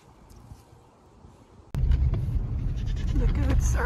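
Goats on a farm bleating in spring, several calls rising after a sudden bump, near and fairly loud over wind and outdoor noise, with speech mixed in.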